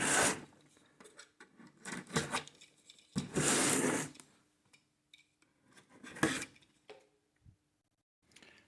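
Cardboard and plastic packaging of a Fantasy LUX TIG 202 AC/DC welder being unpacked in a garage: close rustling, scraping and rubbing bursts, one long crinkly stretch, then scattered softer handling noises and a brief thump, with no talking.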